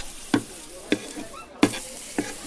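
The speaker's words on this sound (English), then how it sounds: "I'm frying my bananas." Bananas frying in a pan sizzle under a steady crackle, broken by four sharp, loud scraping stirs spaced roughly evenly, with no one talking.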